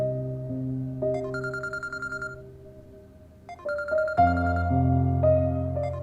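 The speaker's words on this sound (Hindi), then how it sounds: "किसका फोन है?" A phone ringtone in a household scene from a drama, an electronic melodic ring in repeated bursts with a pause before it sounds again, over a low steady background hum.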